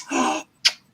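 A single close sneeze during a psychic medium's live stream: a breathy burst lasting under half a second, then a brief sharp snap, with silence around it.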